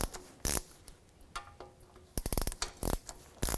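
A hand ratchet loosens the transmission pan bolts under a 2005-2010 Dodge Dakota, with short bursts of rapid metallic clicking separated by pauses, close and loud with no talk.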